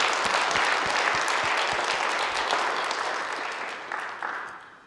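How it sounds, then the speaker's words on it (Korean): A church congregation at a Korean Sunday praise service applauds its pastors and their wives, loud sustained clapping with some distinct sharp claps, fading gradually toward the end. "그 목사님들께 또 함께 사역을 해오신 사모님들께 박수 한번 쳐드리고 시작하면 고맙겠습니다."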